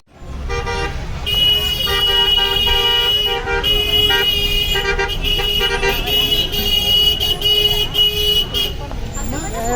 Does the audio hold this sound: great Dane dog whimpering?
no